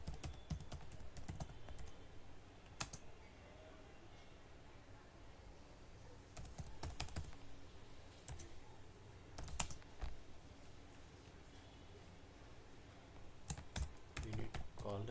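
Steady typing on a computer keyboard while writing code, with continuous soft key clicks and occasional louder clusters of keystrokes, close and fairly quiet throughout.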